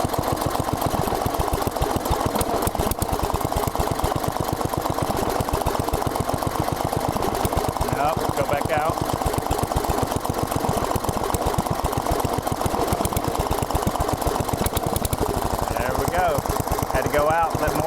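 A Briggs & Stratton 10hp engine on an Allis-Chalmers Big Ten garden tractor runs loud and close with a rapid, even chugging beat while its carburetor is adjusted, the note stumbling briefly at moments.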